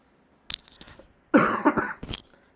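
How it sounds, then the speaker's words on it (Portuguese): A person with a cold coughs up close in a quiet indoor room, a few sharp short bursts followed by a longer rough coughing fit and one final hack. "Desculpem se vocês escutarem minha tosse no fundo."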